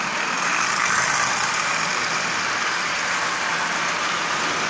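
A toy locomotive driven by a Marx single reduction motor with a modified 490 shell, built from junk parts, running on its first time on the rail: a continuous close mechanical whir and hum, steady and unbroken, with no talking.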